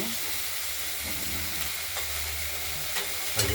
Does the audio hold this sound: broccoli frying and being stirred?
yes